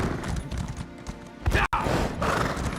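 Horse hooves in Hogwarts Legacy clop rhythmically across the ground, fairly close, with a brief sharp thud partway through and a snort-like burst.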